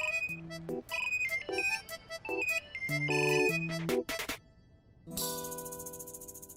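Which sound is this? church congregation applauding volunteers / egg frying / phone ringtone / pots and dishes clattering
phone ringtone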